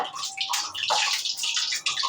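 Water spattering and crackling in a hot frying pan during papad making, a dense continuous hiss with irregular pops, close and steady throughout.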